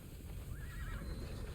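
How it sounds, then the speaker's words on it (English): A horse in the video game Immortals Fenyx Rising whinnies once, a short wavering neigh rising over a steady low rumble of background noise. "wait, that's my horse."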